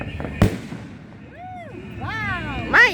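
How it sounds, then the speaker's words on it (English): Fireworks at a 2025 display: a sharp close bang followed by whistling, rising and falling crackling shells, with a voice exclaiming amid the bursts. "My ears are ringing from the loud explosion, from the loudest booms."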